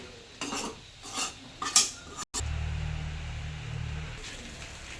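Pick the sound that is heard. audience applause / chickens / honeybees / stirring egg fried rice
stirring egg fried rice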